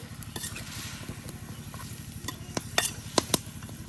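Winter vegetables sizzling and being stirred into a spice mix in a pan for a village-style fish curry, with a steady frying hiss, rhythmic scraping strokes and a few sharp clinks near the end.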